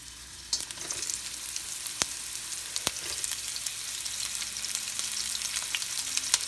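Onions frying in olive oil for a milkfish steak (bistek na bangus) dish, a steady soft sizzle with scattered crackles and a few sharp pops close by, no talking.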